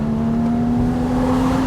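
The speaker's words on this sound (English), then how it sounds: "Even when you're driving around town, it's a deeper, throatier exhaust, even at lower RPMs." Exhaust of a 2015 Porsche Boxster GTS sports car gives a loud, deep, throaty drone, held close and steady through the short stretch with no voices.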